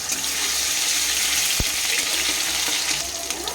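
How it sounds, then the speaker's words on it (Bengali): Ginger-garlic paste sizzles steadily in hot oil in a pan, a dense, even frying hiss with a single sharp clack of a utensil partway through and no voices. "আমি এই আদা রসুন বাটাটা অ্যাড করলাম"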